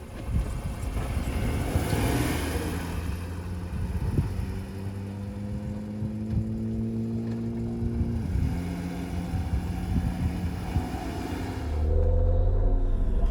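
A race car heads out onto the track at Oregon Raceway Park for a first session. Its engine drones loudly from close by, with revs climbing and dropping through gear changes and swelling again at the end.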